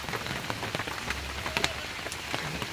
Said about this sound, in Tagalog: sobrang maulan ngayon dito sa amin